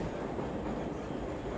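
A Moscow metro train rumbles along underground, a loud, steady low roar with rail noise heard from inside the carriage.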